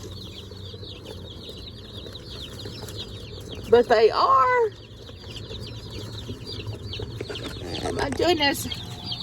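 Meat chickens shut in a box give soft, low clucks and murmurs beneath a voice, with two louder bursts of squawking partway through.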